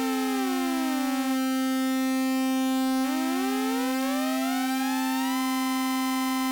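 Two oscillators on a Dreadbox NYX analog synthesizer pulled apart with the detune knob: a loud sustained tone whose pitch sweeps up and down away from unison, producing beating and shifting intervals, with no speech.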